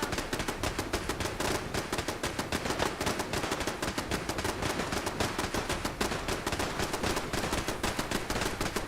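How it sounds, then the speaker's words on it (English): Rapid automatic gunfire from a Fallout 4 settlement battle with the Sim Settlements 2 mod, a dense rattling stream of shots that keeps going at an even, fast rhythm, loud and close throughout with no pauses. "Seriously, who are we shooting at?"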